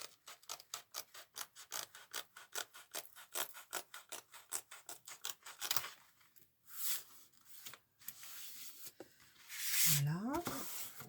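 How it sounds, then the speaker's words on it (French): Scissors snip through material in a quick, steady series of crisp cuts while making a cloth doll, then slow to a few scattered snips and handling noises, with a brief sweeping sound near the end. "Faut couper."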